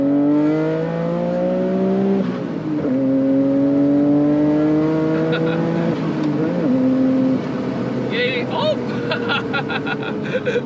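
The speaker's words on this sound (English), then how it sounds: "it has the upgraded HKS twins, and they make all the right noises" A Nissan Skyline's RB26 twin-turbo engine with upgraded HKS turbos revs while driving, a loud, smooth rising whine that climbs through several gears with brief shift dips, turbo flutter and chirps near the end.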